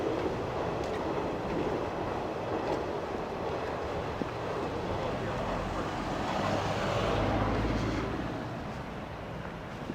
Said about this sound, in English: You can see the train going.